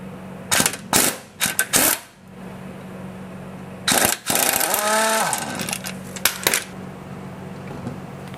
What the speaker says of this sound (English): so we're going to remove the lower caliper bolt